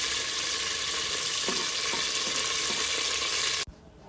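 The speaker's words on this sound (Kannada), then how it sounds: "ಚಕ್ಕೆ ಮರಾಠಿ ಮೊಗ್ಗು ಲವಂಗ ಮತ್ತು ಪುದೀನ ಮತ್ತು ಹಸಿಮೆಣ್ಸಿನ್ಕಾಯಿ ಹಾಕ್ಕೊಂಡು ಸ್ವಲ್ಪ ಫ್ರೈ ಮಾಡ್ಕೋಬೇಕು ಇದ್ರ ಜೊತೆಗೇ ಮಶ್ರೂಮ್ ಕೂಡ" Mushrooms frying in a pan with cinnamon, marathi moggu, cloves, mint and green chilli, giving a steady, loud, continuous sizzle with a few faint stirring scrapes, ending abruptly.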